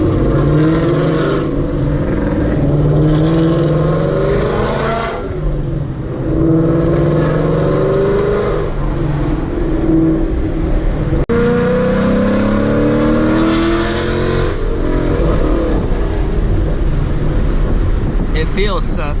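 A modified full-bolt-on Gen 3 Mustang revs hard and loud in repeated surging bursts, its engine note climbing and falling several times with wind buffeting the microphone and a sharp crack near the middle.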